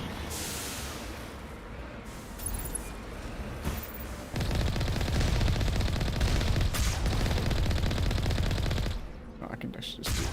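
Turrets firing in Mass Effect: Legendary Edition, a steady, dense stream of rapid gunfire that grows louder partway through and holds before tapering off.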